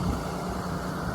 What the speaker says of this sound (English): You can hear that beautiful Cummins engine singing in the background.